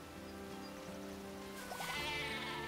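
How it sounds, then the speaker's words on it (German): Sheep bleat in the farming video game Harvestella, a few short wavering calls over a steady bed of soft ambient game music and a trickling, rain-like hiss. "Mäh, ihr Schafe."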